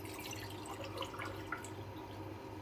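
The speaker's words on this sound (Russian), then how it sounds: "заливаем водичку" Water streams into a pan of fried meat for plov, about one and a half litres, making a steady close splashing and trickling with faint dripping, no voices.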